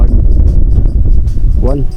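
Strong wind at sea beside a boat on the Pacific buffets the microphone in a continuous low roar, with a brief voice near the end.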